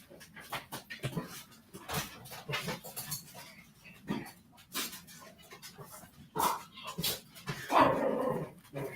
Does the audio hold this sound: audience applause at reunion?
no